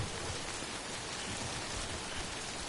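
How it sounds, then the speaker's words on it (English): Steady rain pours down in the game Death Stranding, a dense, even hiss of falling drops heard alone with no voices. "You think this mission is just really far and just really rainy just to show you the effects of rain?"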